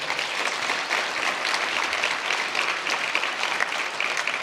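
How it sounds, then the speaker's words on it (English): A conference audience applauds Mayor Leslie and the city council with steady, dense clapping from a large hall, continuous throughout with no talking. "Please give Mayor Leslie and the council a big round of applause"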